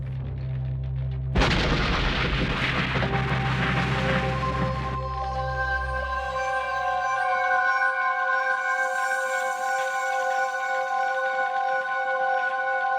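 A loud explosion blast bursts suddenly and roars for several seconds, then fades into a long ringing tone that slowly dies away, with no voices.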